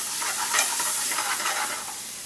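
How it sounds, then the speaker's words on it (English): Spices stirred in oil in a pan for a chicken madras, a steady scraping, sizzling stir close up and fairly loud, with no talking. "give this a mix."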